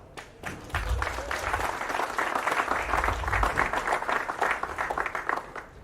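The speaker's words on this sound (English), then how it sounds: "we want everybody to applaud constantly and continuously" An audience standing at a city press conference on a new airport service breaks into steady applause, dense clapping starting after a brief pause and continuing at even strength.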